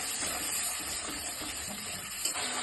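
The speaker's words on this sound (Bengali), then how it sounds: "ভালো করে কষিয়ে নিব মশলাটা" Spice paste with salt and turmeric sautés in a pan for a potato and pumpkin dish, giving a steady, dense frying hiss that holds at an even level throughout.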